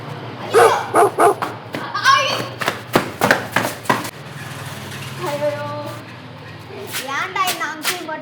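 A dog at a house barks in a quick series of sharp, loud barks, then shifts to higher yips and whimpering whines.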